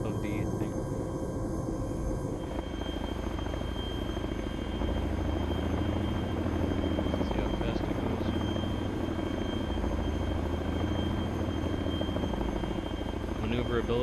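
Chinook helicopter flying in the video game Arma III, a steady loud rotor drone with a deep rhythmic thump and engine whine running continuously, while someone talks over it.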